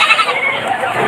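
A large upgraded goat at a Batangas livestock market bleats once, loud and close, over a dense, noisy crowd.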